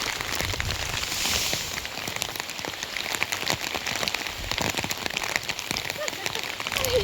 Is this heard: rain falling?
yes